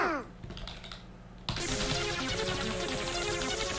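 Computer keyboard arrow keys are pressed rapidly during a Friday Night Funkin rhythm game session, first a few quiet taps, then a dense, loud clatter of keystrokes layered with game music.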